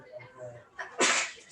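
A single sharp sneeze bursts out close by in a classroom during a geometry lesson, loud and brief, following some quiet talk.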